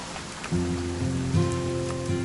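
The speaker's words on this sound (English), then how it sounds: "It's gonna rain the whole weekend, isn't it?" Steady rain hisses on surfaces in the video game What Remains of Edith Finch, with a soft tonal game hum running underneath.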